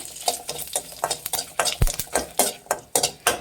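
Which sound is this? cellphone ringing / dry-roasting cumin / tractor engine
dry-roasting cumin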